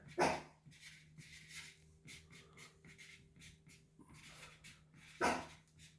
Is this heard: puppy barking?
yes